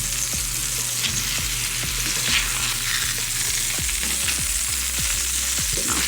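Juicy Lucy burgers fry in butter in a pan with a steady, dense sizzle, broken by intermittent scraping and tapping of a spatula as the patties are turned; no one speaks.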